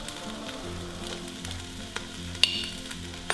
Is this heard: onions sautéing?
yes